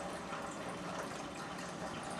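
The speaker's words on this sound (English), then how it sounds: "While Dave is filling it with distilled water" Distilled water pours steadily into the reservoir of a PicoBrew brewing machine, a constant hissing trickle at even volume from start to end.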